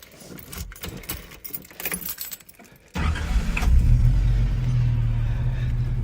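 Keys jingle nearby, then a Japanese import car's 2.8-liter non-turbo L28 inline-six cranks, catches and settles into a steady, loud, rumbling idle up close.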